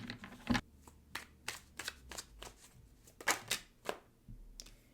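Tarot cards shuffled by hand in a run of crisp riffles and flicks, close and moderately loud, with a few soft thumps between bursts and no talking.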